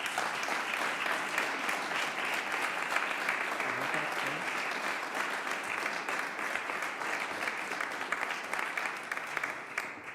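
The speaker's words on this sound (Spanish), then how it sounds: "Un aplauso, por favor, para los deportistas." Audience applause for Spanish Paralympic athletes preselected for the Paris Games at a presentation event, steady dense clapping filling the whole stretch at moderate level.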